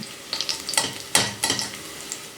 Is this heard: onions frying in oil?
yes